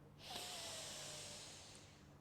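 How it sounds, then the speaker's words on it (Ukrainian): A deep inhale during a guided yoga and Pilates breathing exercise: one soft, steady breath rising in over about two seconds, close and quiet, with no talking over it. "Зробіть глибокий вдих."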